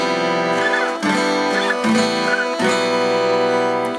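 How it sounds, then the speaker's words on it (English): Loud guitar chords strummed repeatedly with unwanted strings ringing, giving a thick, muddy, smeared tone with no talking. "If you're playing power chords and you're not muting properly, your power chords are going to sound like this"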